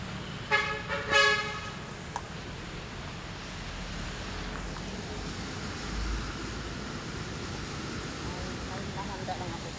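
Road traffic in heavy rain, with a couple of short car horn toots near the start followed by a steady hiss of rain and engine rumble, voices audible underneath.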